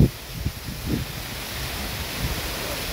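Strong wind roars as a steady broadband rush across a DJI Mavic Mini drone flight, with gusty low thumps of wind buffeting early on and no talking.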